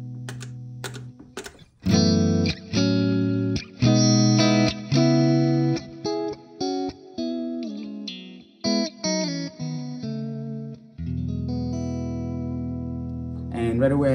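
Clean electric guitar through a delay effect on a Hotone Ampero II Stage multi-effects unit, playing a run of plucked notes and chords with echoing repeats, ending on a sustained chord.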